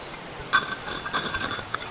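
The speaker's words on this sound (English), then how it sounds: "I'll try to cut a hole in the glass." Glass being cut in The Night of the Rabbit game, a bright scraping, clinking scratch that starts abruptly and continues in short gritty strokes for over a second, fairly close and alone.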